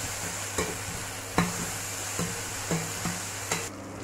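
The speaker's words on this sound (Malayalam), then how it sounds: "നല്ലപോലെ ഒന്ന് വഴറ്റിയെടുക്കാം. പെട്ടെന്ന് വഴണ്ടി കിട്ടാനായിട്ട് നമുക്ക് അതിലേക്ക് കുറച്ച് ഉപ്പ് ചേർത്ത് കൊടുക്കാം" Onions with salt sauté in a pan for Kerala sardine curry with a soft, even sizzle. A spoon scrapes and taps at intervals of roughly half a second to a second, close by and with no voices.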